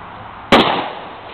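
M1917 Enfield rifle fired at a 50-yard target, a single loud, sharp crack followed by a short fading echo.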